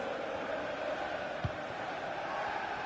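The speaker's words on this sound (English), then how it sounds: "Well, just listen to this crowd. They want a bit more." A video game football match with a stadium crowd giving off a steady, dense roar that holds evenly throughout, with no clear speech above it.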